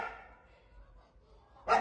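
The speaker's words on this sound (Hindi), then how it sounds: "इसने भौंकना शुरू कर दिया है" A single dog bark breaks out suddenly and loudly near the end of a quiet outdoor stretch as two people walk toward home through a mosquito-filled evening.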